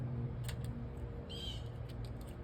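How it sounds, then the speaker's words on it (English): A bird gives a few brief, faint chirps outdoors in a garden, heard over a low background hum. "Hear that bird?"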